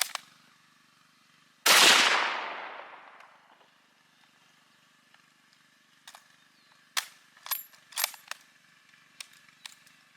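An 8mm Mauser rifle fires into a concrete block outdoors: one loud, close blast with a long ringing decay, followed by scattered sharp clicks and small clattering impacts.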